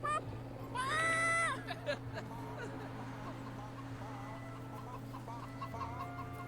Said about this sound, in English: I'm really trying not to repeat that chicken noise back